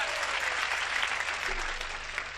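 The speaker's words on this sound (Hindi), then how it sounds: "एक बार तालियां बजा दे दोस्तों" An audience at a Hindi comedy poetry show claps in sustained, dense applause, loud and close, filling the whole stretch without a break.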